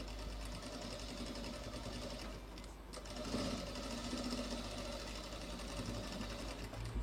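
A sewing machine runs steadily on a designer blouse, a fast, even mechanical hum with a brief slowdown near the middle, sitting fairly faint but continuous throughout.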